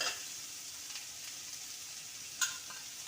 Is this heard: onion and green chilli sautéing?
yes